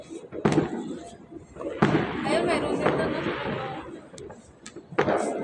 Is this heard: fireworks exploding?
yes